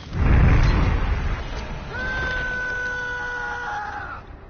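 A bird call in the horror game Dead by Daylight: after a loud opening thump, a sustained, shrill, tonal cry holds steady for about two seconds before cutting off, with no talk over it.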